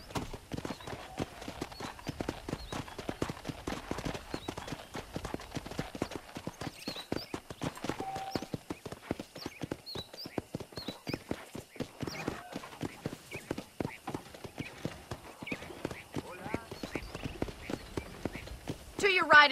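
Horse hooves clip-clop in a steady walking rhythm in the video game Red Dead Redemption, close and clear, continuing throughout with occasional faint sounds around them.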